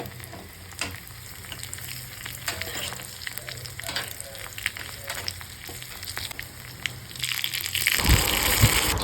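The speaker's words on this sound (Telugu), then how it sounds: "కొద్దిగా జీలకర్ర, ఆవాలు, ఎండుమిర్చి, వెల్లుల్లి వేసి కొద్దిగా ఫ్రై అయిన తర్వాత" Cumin, mustard seeds, dried chilli and garlic sizzle in hot oil as a tempering for a three-lentil sambar. A steady, close frying hiss runs throughout with light stirring, then swells into a louder, fuller sizzle near the end.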